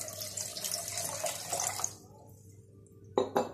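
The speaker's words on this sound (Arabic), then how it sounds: "نضيفوا الياغورت تاعنا بهذا الشكل، ونضيف كميه تاع الماء" Water pours steadily into a yogurt and lemon drink mixture for about two seconds, a close, splashy rush that stops abruptly. A brief clatter and splash follow a moment later.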